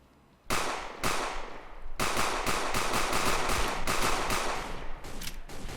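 Gunfire in the video game Sneak Thief: a couple of single loud shots, then dense rapid automatic bursts that run on continuously, close and loud, with no talk.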